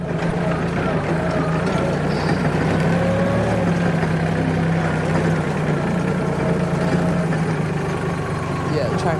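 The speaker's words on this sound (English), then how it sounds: "Let me go get the tractor." A tractor engine idles steadily with a deep, constant rumble that runs the whole time, loud and close.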